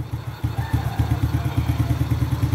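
A motorcycle engine idles close up after its idle setting has been adjusted, giving a steady, even chugging pulse with a smooth rhythm and no revving.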